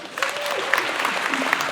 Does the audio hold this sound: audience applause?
yes